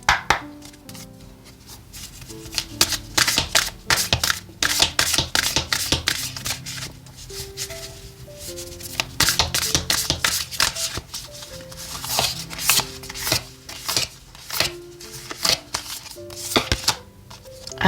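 Oracle cards being shuffled by hand give repeated crisp riffling and slapping bursts with short pauses between them, close and clear against soft background music.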